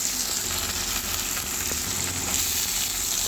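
Onions go into hot oil already seasoned with bay leaves, whole garam masala and garlic. The result is a loud, dense, continuous sizzle that stays even from start to finish, with faint stirring underneath.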